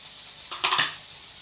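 Sliced onions sautéing in a pan for rava kichadi, a faint soft sizzle with a brief stir-and-scrape burst of spoon against pan in the middle.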